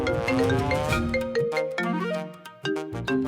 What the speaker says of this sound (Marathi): मंजू वहिनीचा फोन.